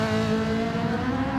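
A Ferrari race car in a racing video game, its engine held high in the revs with a steady, loud, buzzing tone throughout and no talk over it.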